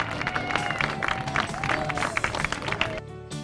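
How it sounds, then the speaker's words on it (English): Outdoor crowd at a Veterans Day parade in Universal City, Texas, clapping for a passing jump rope team, a steady spread of applause and cheering mixed with street noise, dropping off abruptly near the end. "A round of applause, please, for the Jumping Dragons jump rope team."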